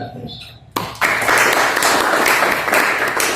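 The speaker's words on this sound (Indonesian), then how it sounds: "Tepuk tangan" A brief spoken moment gives way to a sudden burst of audience applause at an Indonesian panel discussion on law revision and economic liberalization, the clapping loud, dense and steady through the rest of the moment.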